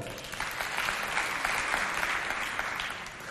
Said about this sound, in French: applaudissez très fort pour elle